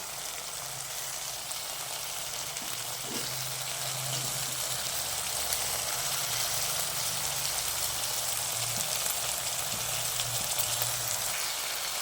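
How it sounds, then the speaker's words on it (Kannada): Ginger-garlic paste and egg rice ingredients fry in a pan, a low continuous sizzle and bubbling hiss heard close and steady throughout, without talk. "ನೋಡಿ ಫ್ರೈ ಆಗ್ತಾಯಿದೆ"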